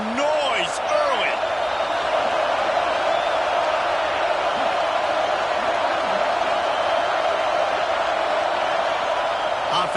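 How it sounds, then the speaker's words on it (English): Stadium crowd at the Ohio State vs UCLA college football game roars in a sustained, loud, distant-sounding wash with scattered whoops and whistles rising out of it. "This crowd bringing the energy and noise early."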